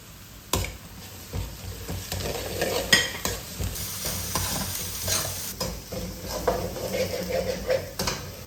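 Ginger, garlic and green chilli paste sizzles and fries in a pan while a spoon stirs and scrapes against the metal in irregular strokes, close up.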